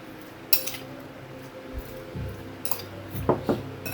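Crushed pepper stuffing for grilled milkfish stirred in a bowl with a utensil, giving a few light clinks and scrapes plus a soft dull knock, close and fairly quiet with no talking.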